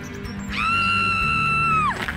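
A girl in an animated fairy tale lets out one long, high, sustained scream lasting about a second and a half, loud and close, with a brief gasp just before.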